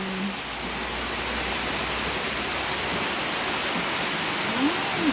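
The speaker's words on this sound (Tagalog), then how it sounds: "lakas ng ulan" Heavy rain pours steadily at night in Polangui, Albay, a dense, continuous hiss, with a faint low rumble underneath and no voices.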